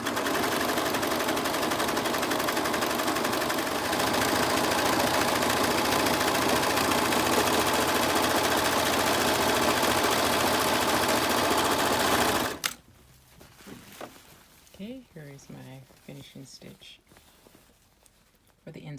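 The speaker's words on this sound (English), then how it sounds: "I'm just going to go to my serger and finish the edges off nicely" A serger runs in a fast, steady whir as it finishes the edges of a fabric facing. It stops abruptly partway through, and quiet handling noises follow.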